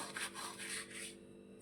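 Soft, dry rubbing and crackling comes in several short strokes as carom seeds are crushed between palms, close and quiet.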